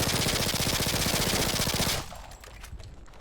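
A G18 machine pistol from Call of Duty: Future Warfare fires a loud, rapid full-auto burst of about two seconds, a dense stream of shots that stops abruptly and leaves a fading echo and mechanical tail.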